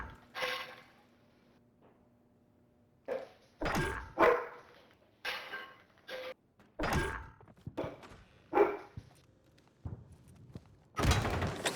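Dog barking in the Call of Duty video game, a series of loud, separated bark bursts in an irregular rhythm over a quiet background, with thumping game sounds around them.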